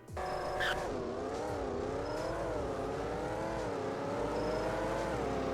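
Pickup truck with 400 horsepower accelerating hard in the Greenville video game, its steadily rising engine note loud and close, holding a smooth continuous drone throughout with no talk.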